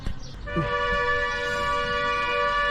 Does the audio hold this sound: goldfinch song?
no